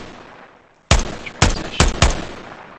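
Gunfire in the tactical shooter Ground Branch: after a quiet moment come four loud, close, sharp shots in an uneven burst, each with a brief decaying tail.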